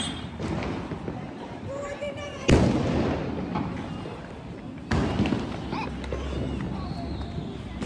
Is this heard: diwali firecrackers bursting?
yes